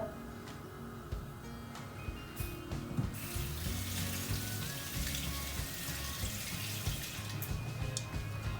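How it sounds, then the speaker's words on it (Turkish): Hands rinsed under a running kitchen tap while cooking eggplant, a continuous splashing water stream with occasional clinks and knocks, close and moderately loud, without speech. "elimizi yıkadıktan sonra"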